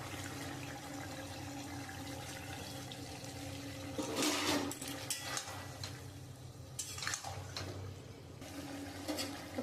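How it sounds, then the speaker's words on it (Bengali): Water poured into a pan of simmering fish and potato curry, a steady hiss and splash that builds for a few seconds against the constant bubbling of the pot, close by with no talk. "আমি এবারে পরিমাণ মতন জল দিয়ে দেবো।"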